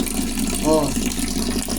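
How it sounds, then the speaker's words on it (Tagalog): A bathroom tap runs steadily after the water supply comes back, a loud continuous gush and splash filling the whole moment, heard up close. "Ayan nagbigay na ng Prime Water ng tubig ngayon lang."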